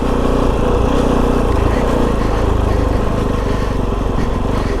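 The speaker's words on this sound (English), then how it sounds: "As soon as you rev the bike a little bit," Loud, steady motorcycle engine of a Kove 450 Rally dual sport bike running close by, a continuous buzzing drone with rapid firing pulses and no clear pauses.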